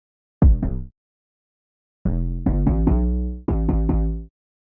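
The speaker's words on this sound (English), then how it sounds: "So here's my 808" Deep 808 bass notes from a hip hop beat in Cubase 14 boom alone: one short hit, a pause, then a run of gliding, sustained pulses in two groups, each with a rounded punch and fading tail.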